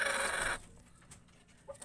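Inbred backyard gamefowl chickens call loudly in a short burst, then a few quieter scattered clucks and rustles follow nearby.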